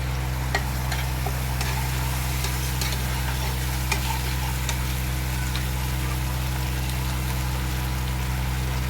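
Ginger garlic paste frying in a pan gives a steady, close sizzle with a low constant hum underneath, dotted with occasional stirring clicks and scrapes, and no talking.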